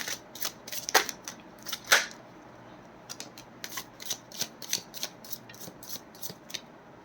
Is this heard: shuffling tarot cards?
yes